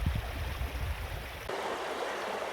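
A moorland stream on Dartmoor flowing steadily, a continuous close rush and gurgle of water, with a low rumble early on that gives way to a brighter, hissier flow.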